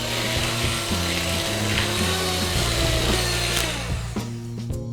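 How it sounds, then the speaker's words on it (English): An electric mixer whips egg whites and sugar for meringue cookies in a slightly oversized container, a loud steady whirring drone with shifting pitch that runs the whole time, close and without speech. "we need to keep blending it until the sugar dissolves"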